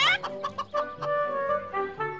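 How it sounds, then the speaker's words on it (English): Chickens on a farm cluck in a rapid, close series of bright calls, several overlapping squawks filling the short stretch with no talking. "Farmer Dillo counts his chicken"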